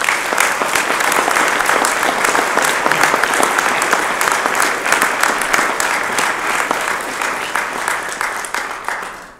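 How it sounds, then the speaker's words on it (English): Audience at a police badge pinning ceremony claps for the officers and their families, a full room of steady, close applause that gradually tapers off near the end. "please join me in a round of applause for these men and women and their families"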